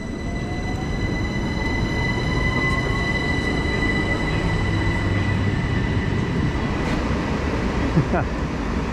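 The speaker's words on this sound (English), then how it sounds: "Where we're going now is the 1612 Southern service to Eastbourne from London" Southern electric train departing a West Sussex station bound for Eastbourne, a steady rolling rumble with a whining traction tone rising gently as it pulls away, a faint wheel squeal near the end.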